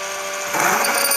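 A power case trimmer cuts a brass cartridge case, a motor whine that rises to a louder grinding buzz as the cutter bites into the brass, steady and close.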